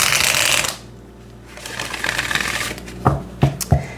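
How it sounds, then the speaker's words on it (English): A deck of tarot cards is riffled and shuffled at close range, first as a dense rapid flutter and then as a few sharp slaps and snaps as the cards are squared. "I'm going to shuffle one more time."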